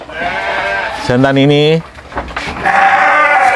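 Male sheep bleating once loudly and close by at a sheep farm, a single wavering call between stretches of someone talking.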